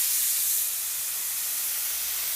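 A spray gun set up for activator fires water in a steady, loud, close hiss of fine spray that runs uninterrupted throughout, with no talking.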